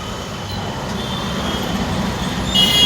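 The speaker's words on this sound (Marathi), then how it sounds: "हे आहे करी रोड रेल्वे स्टेशन मित्रांनो" A train rumbles steadily through Currey Road railway station in Mumbai, a continuous low roll of wheels on track with a faint squeal rising near the end.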